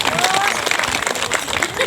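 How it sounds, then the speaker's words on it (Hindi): Applause rises from an audience at a religious gathering, a steady patter of many hands that fills the short stretch with a dense, even wash of clapping. "सब के लिए ताली बजा दिए"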